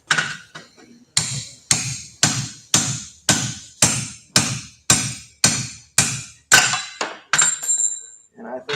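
Hammer blows driving a drift into hot forged steel at a forge meeting, a steady series of about a dozen sharp ringing metallic strikes, close and loud, evenly paced.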